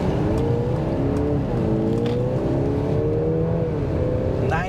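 A 2023 Mercedes GLC300 4Matic accelerating onto a road, steady engine drone rising in pitch with smooth gear shifts, heard loudly from inside the cabin.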